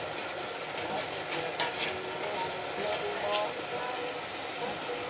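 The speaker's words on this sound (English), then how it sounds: "for about 5 minutes until curry paste is mixed properly with our coconut milk" Curry paste is stirred into coconut milk in a pan, giving a steady soft sizzle and scraping that stays continuous and fairly quiet throughout.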